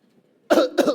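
A person imitates an elderly smoker's cough: two harsh, raspy bursts in quick succession, close and loud after a brief quiet moment.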